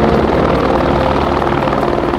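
A helicopter close by on a dog sledding trip in Alaska, a loud, steady rotor roar with rapid blade chop that fills the short stretch.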